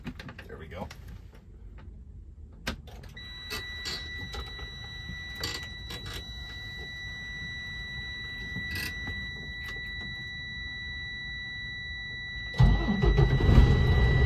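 A manual truck's engine cranking and catching inside the cab, rising to a steady mid-pitched idle under a faint warning tone, then a louder rumble near the end; someone speaks briefly.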